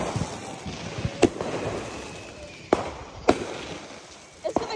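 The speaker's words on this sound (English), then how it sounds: "They're putting fireworks, the huge fireworks," Independence Day fireworks exploding, several sharp booms and cracks going off at intervals, some near and some more distant, over a faint background of outdoor crowd murmur.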